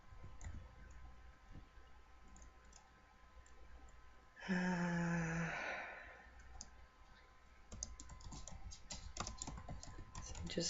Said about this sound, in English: Just type in these ones.